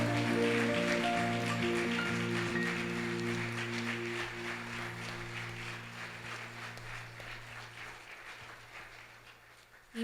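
Church congregation clapping, broad and steady at first under a sustained organ-like chord, gradually thinning and fading over ten seconds.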